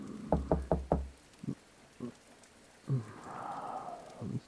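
Knocking on a door during a storm: a quick run of four close, loud raps, then a few slower single knocks spaced apart, with a soft rushing noise of rain behind them.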